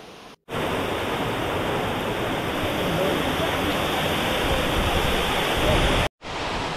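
Thoseghar waterfall near Satara roars as water plunges down, a loud, unbroken rushing wash heard close and steady, briefly cut off at the start and end.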